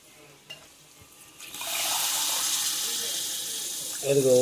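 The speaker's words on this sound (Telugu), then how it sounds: "ఇప్పుడు ఏం చేస్తామంటే నాలుగు చెంబులు నీళ్ళు పోస్తాం" After a few faint clinks, four vessels of water pour steadily into a pot for vegetable biryani with a continuous splashing rush, ending in a brief burst of clatter.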